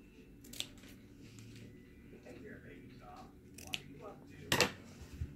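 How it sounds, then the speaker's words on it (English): Scissors snipping through ribbon while making a reindeer craft, a few quick close cuts standing out over quiet room noise, with a sharper cluster of snips near the end. "And then I lay the ribbon on the side and trim."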